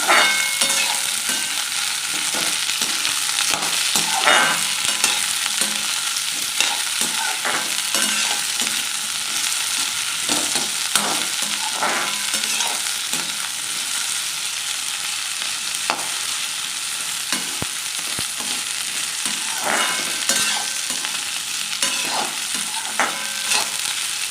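Sliced okra fries in a pan for a Gujarati curry with a steady close sizzle, while a spoon scrapes and stirs repeatedly through the pieces.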